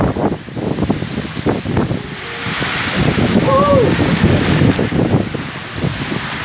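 Storm over a village with strong gusting wind and driving rain, a loud continuous roar with rushing noise and some faint tonal sounds in the mix.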